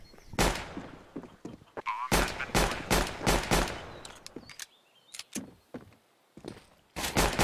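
Gunfire rings out during a Counter-Strike match on the Inferno map, bursts of rapid rifle shots and single cracks in clustered volleys, loud and close, with brief quieter pauses between exchanges.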